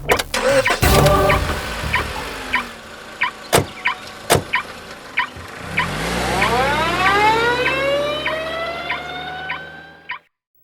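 A car engine cranks and starts, then revs up and pulls away, the pitch rising steadily as it accelerates; sharp door or handle clicks come before it, with no voices.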